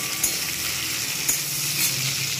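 Onions and tomato fry in a pan for fish curry, a steady close sizzle that crackles all the way through, with a few sharper stirring clicks and pops and no voices.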